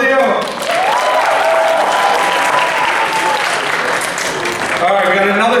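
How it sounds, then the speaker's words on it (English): A high school talent show audience applauds loudly and steadily, dense continuous clapping filling the hall, with a few cheers and whoops rising over it before it tapers near the end. "One more round of applause for William."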